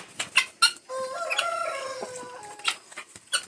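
Chickens and a rooster on a rural smallholding give repeated sharp clucks, with a rooster crowing through the middle, close and loud.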